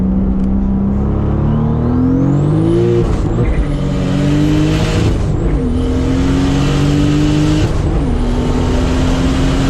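Engine of a Toyota MKIV Supra heard from inside during a ride along, loud and close, climbing steadily through the revs with short dips at each gear shift before pulling again.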